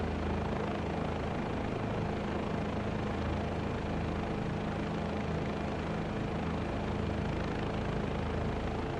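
Steady, loud, unbroken rotor and turbine drone inside the cabin of a Bell 407 helicopter in MSFS2024, droning evenly with no pauses.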